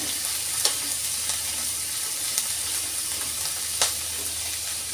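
Cauliflower and fresh shrimp stir-fry in a pan over medium heat, a steady close hiss of sizzling oil broken by a few sharp scrapes and clinks of the spatula.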